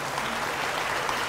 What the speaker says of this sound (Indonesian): tepuk tangan dulu buat Ustaz Abdul Somad ya.